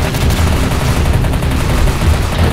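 Dense, rapid bursts of gunfire crackle continuously, like several weapons firing at once, loud and close.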